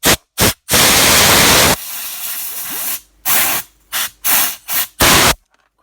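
Compressed air from a compressor is blasted over a Rotablade in sharp, loud hissing bursts: two quick puffs, one long blast, then a string of short stop-start blasts close by, with no talking.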